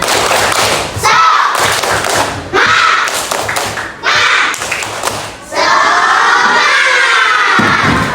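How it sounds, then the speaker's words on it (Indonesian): Children in a classroom perform a tepuk semangat spirit chant, loud shouted voices with rhythmic claps and thumps in bursts separated by short pauses, ending in a sustained group shout. "Ya, kita tepuk semangat dulu."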